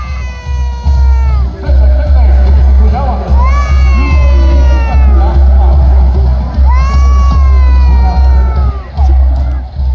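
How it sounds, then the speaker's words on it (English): Large crowd of tourists at the Saqsaywaman ruins in Peru, dense loud babble with high excited shouts and a child's wailing cries over strong wind rumble. "Big crowd."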